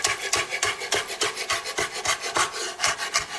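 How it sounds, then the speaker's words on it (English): A knife rapidly slices bunched fresh basil into thin chiffonade strips on a board, a quick regular run of crisp rasping cuts, close and clear with no speech. "I just put it all in a bunch, and I just start chiffonading it, which just means just in really thin strips"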